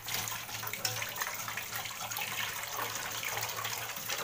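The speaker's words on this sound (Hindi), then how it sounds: "मेरा हाथ तो गंदा है, मैं धो लेती हूँ उसके बाद।" Hands are washed under a running kitchen tap during home cooking: a steady, close hiss and splash of water that continues throughout without pause.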